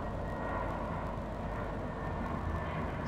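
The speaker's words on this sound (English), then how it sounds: "There's the plane again." In Farming Simulator 19, an airplane flies over on the Greenwich Valley map with a steady, loud, broad engine drone that holds unchanged throughout.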